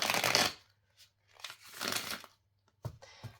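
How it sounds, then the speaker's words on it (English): A large tarot card deck is being shuffled, with soft papery riffles and crinkly card slides coming in several short bursts separated by quiet gaps. "to shuffle this deck, it's like a heavenly experience"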